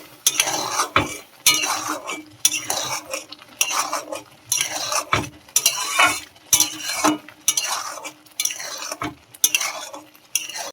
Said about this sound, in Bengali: ভালো করে একটু নেড়ে নেবো, কাঁচা গন্ধটা যাতে না থাকে।